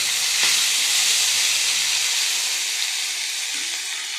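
Semolina snack frying in a pan, giving a steady broadband sizzle and hiss that holds evenly throughout, close and fairly loud, with no talking.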